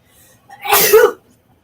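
A single sharp sneeze, close and loud, with a short breathy build-up before the burst and quiet afterward.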